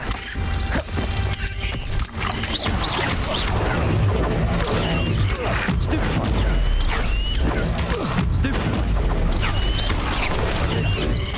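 Protego shield spell cast in a Hogwarts Legacy battle, amid loud continuous combat noise with whooshes, crashes and mechanical clanks throughout.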